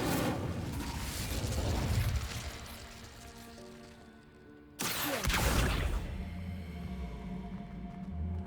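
An Incendio fire spell cast in Hogwarts Legacy bursts out with a sudden loud whoosh and roar of flame that cuts in over game ambience and then fades into a sustained fiery rumble.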